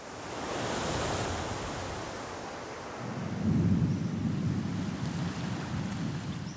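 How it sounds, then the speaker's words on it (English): Storm on a Pacific island: a continuous roar of surf and wind, with a deeper rumbling swell of thunder-like noise rising partway through, no voices. "As yet another storm hits the island"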